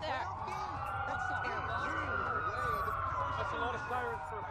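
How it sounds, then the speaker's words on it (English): Several police sirens wail in the Watch Dogs video game during a city blackout, overlapping rising and falling tones that sound fairly distant under low game ambience and someone talking. "That's a lot of sirens for a blackout."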